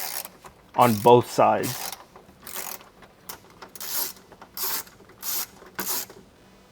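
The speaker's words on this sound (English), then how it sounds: "With the T25, we will take off the bolts off of the rear" A T25 ratchet loosens bolts on a BMW 230i roll-over bar in a series of close, sharp clicking bursts with pauses between them, and a brief spoken phrase among them.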